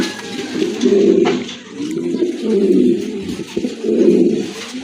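Fancy pigeons coo loudly and close by in deep, rolling, repeated phrases that swell and fade in waves, with no talk over them.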